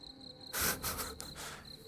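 Steady high cricket chirping used as a comic silence effect during an esports match broadcast, briefly swamped by a louder burst of noise midway before the chirps return alone.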